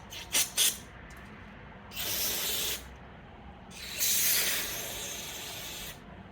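Cleaner sprayed from an aerosol can onto a car's idle air control valve, with a couple of short taps followed by two longer hissing bursts, the second lasting about two seconds, fairly close and alone.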